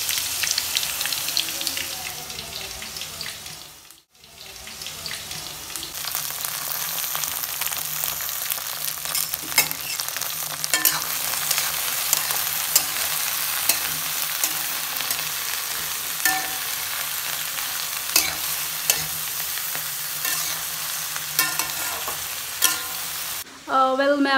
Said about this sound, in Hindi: तो मिर्च जो है फ्राई हो चुका है, अब हम इसमें डालेंगे भिंडी